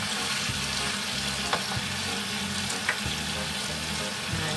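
Seasoned fish grills on a Teflon pan, a constant close sizzle with soft spitting, occasional scrapes and light knocks, running alone without talk.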